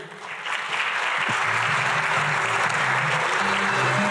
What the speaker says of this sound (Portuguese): Então, com vocês, aplausos para Lindener Pareto.